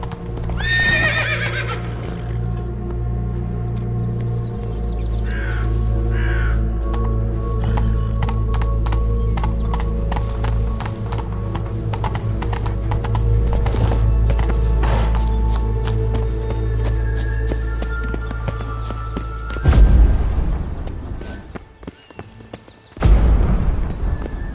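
Riding the horse Roach in The Witcher 3: Blood and Wine, with a loud steady clip-clop of hooves and occasional neighs over a game score, ending in a couple of sharp bursts of noise.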